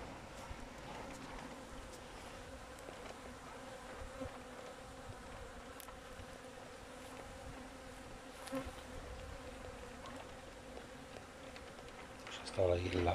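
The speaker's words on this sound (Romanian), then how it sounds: "Albinuțele la apă." Honey bees buzzing as they gather at a water source, a dense, steady drone of many insects holding throughout, fairly close, with a brief rustle near the end.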